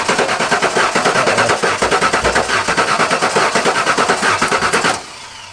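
Old Ford OBS truck engine running after sitting for 14 years with a dead cylinder, a loud, close, rapid uneven chugging that cuts off abruptly near the end.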